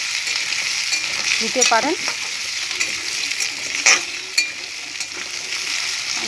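Potatoes frying in a pan, a continuous bright sizzle with occasional scraping stir sounds, and a brief spoken phrase over the cooking.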